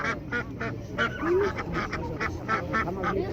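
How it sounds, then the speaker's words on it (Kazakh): Domestic turkeys call at a poultry market in Kyzylorda, giving a rapid series of nasal honking notes at close range, with a few brief higher squeaks among them. "үйіндік күрке тауық."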